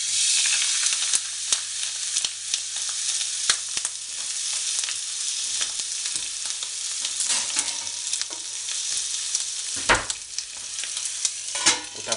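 Chicken pieces laid onto a hot griddle pan over lowered heat, giving a dense, steady sizzle with occasional sharp crackles and clatters, close-up and fairly loud, with no talking.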